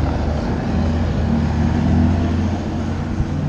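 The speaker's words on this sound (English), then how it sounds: "talk over a loud Cummins truck" A loud Cummins truck engine passes close by on a street, a steady low rumble that swells slightly mid-pass and holds throughout.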